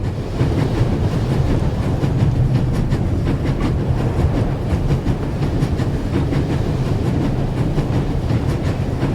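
A video game train runs at full speed, a loud steady rumble with rapid clickety-clack of wheels on rails and rushing wind, continuous and close throughout.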